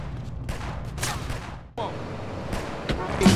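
Gunfire in Grand Theft Auto San Andreas comes in dense bursts of shots, close and loud, over steady game noise and a brief voice.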